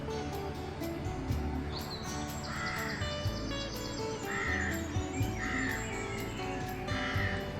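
Birds call among trees at the northeast portal of a tunnel on the Worcester and Birmingham Canal, with repeated crow caws and chirps at moderate distance over a soft outdoor background.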